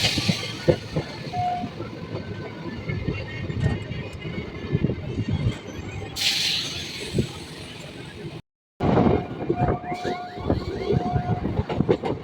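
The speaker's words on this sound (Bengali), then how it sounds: "ট্রেন এখন ঢুকছে ব্যারাকপুর স্টেশনে" Rumbling Lalgola–Sealdah MEMU train entering Barrackpore station, with rhythmic clatter and squealing wheels, a brief dropout, then screeching brakes and clanks resume; faint voices underneath.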